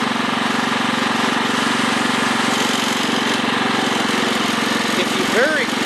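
A 1996 Craftsman riding lawnmower engine runs steadily up close, a loud continuous drone with a brief rising whine near the end.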